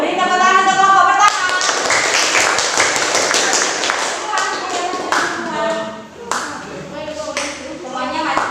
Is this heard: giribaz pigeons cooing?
no